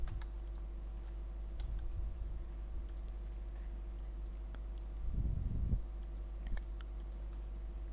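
A few sparse, faint clicks of computer keyboard keys are pressed over a steady low electrical hum, during a keyboard shortcut in 3D modeling software.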